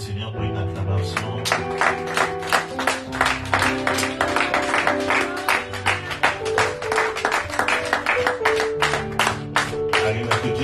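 A church congregation claps in a steady, rhythmic beat for several seconds, loud and close, over sustained music and voices.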